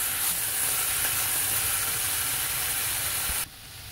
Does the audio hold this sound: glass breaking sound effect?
no